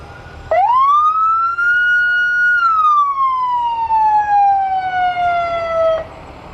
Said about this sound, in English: They've got a ladder truck coming up here.